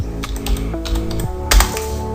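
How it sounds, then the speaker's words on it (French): Quick bursts of clicking keystrokes on a computer keyboard, close and crisp, a short run of taps with a few heavier strokes, with no voice over them. "Vous allez taper Dafont."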